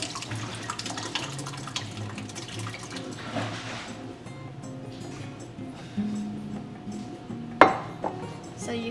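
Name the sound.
bird nest drink being poured out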